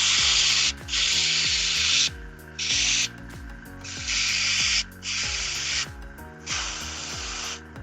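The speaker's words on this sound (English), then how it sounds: "And you can see that that spray is building up slowly over that." An airbrush sprays paint to build a gradient, giving six hissing bursts of varied length separated by short pauses, close and fairly loud, with no talk.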